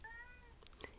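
A pet cat named River gives a single drawn-out meow near the microphone, a falling tonal cry, followed by faint brief rustles and a small chirp at close range.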